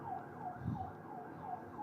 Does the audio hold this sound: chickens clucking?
no